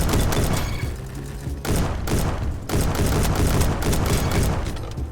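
Rifle fire in a Roblox World War II game, rapid continuous bursts of loud gunshots with brief gaps between volleys, close and dense, no voices.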